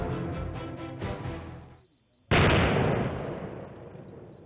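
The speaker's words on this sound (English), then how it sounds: "The first explosion just took place just a few seconds ago" A grenade detonated by security forces goes off in one sudden loud blast after a short hush, its rumble decaying slowly afterward, with earlier rumbling and crackle before it.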